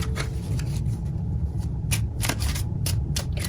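Tarot cards riffled and shuffled by hand during a psychic reading, a steady papery rustle with several sharper flicking bursts, close up and with no talking.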